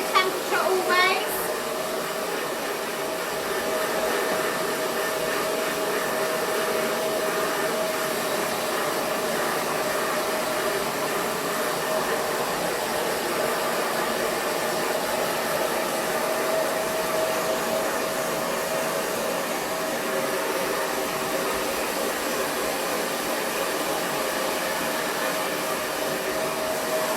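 Blow dryer running continuously at close range while drying a dog's legs after grooming, a loud, steady whooshing hum that persists throughout with little change.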